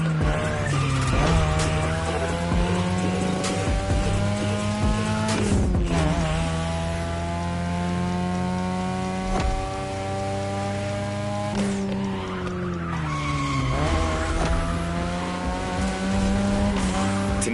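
A 2002 third-generation Mazda RX-7 with a rotary engine drifts in The Crew Motorfest, its engine droning steadily while tires squeal and skid continuously and loudly, with the engine note rising and falling across the run.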